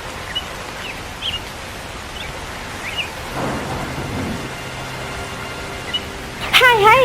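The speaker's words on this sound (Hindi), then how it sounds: "ये बारिश तो लगातार हुए जा रही" Heavy, steady rain pours down around a mud house, with low thunder rumbling through it and faint chirps on top. A voice breaks in briefly near the end.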